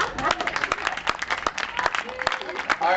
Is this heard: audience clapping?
yes